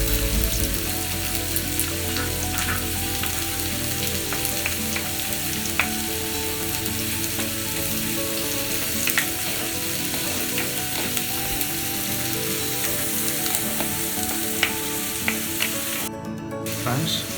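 Onions sizzle and fry steadily in hot oil for a spicy chicken gravy, with a dense continuous crackle and occasional stirring clatter, close and loud with no talk.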